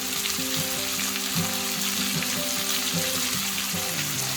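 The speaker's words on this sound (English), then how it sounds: "And you're going to just fry it like that for a couple of minutes" Pangasius fish frying in a pan, a steady loud sizzle and crackle throughout with a constant hiss and no talk.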